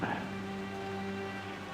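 Steady game rain falls in World of Warcraft's Valley of the Four Winds in Pandaria, a soft continuous patter under a sustained low tone.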